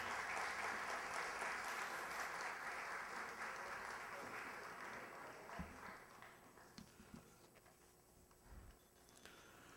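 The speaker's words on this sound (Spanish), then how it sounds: "El aplauso para Nicole Andrade Masi" Applause for a woman receiving a distinction medal at a ceremony in Miraflores, a steady wash of clapping that fades gradually, with a few louder thuds and handling bumps toward the end.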